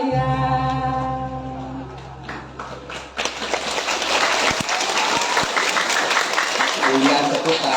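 A crowd applauds at a traditional Balinese Drama Gong parade at the 2022 arts festival. Dense, loud clapping swells in after a sustained tonal music passage and continues steadily to the end.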